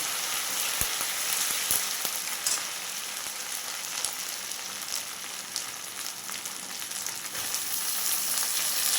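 Fresh, tender pumpkin greens hitting hot oil in a village-style Bengali kitchen, giving a steady, dense sizzle and crackle that holds for several seconds with scattered pops and no talking.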